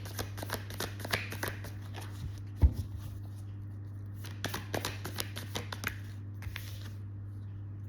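Tarot cards are handled and shuffled in a steady run of soft riffling flicks and slaps, close and fairly quiet over a low constant hum, with one sharper tap midway.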